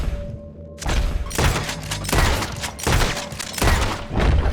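Gunshots in the Red Dead Online video game, fired at a tricolored heron: a quiet start, then a series of sharp, loud cracks at roughly regular intervals, each with a short boom after it.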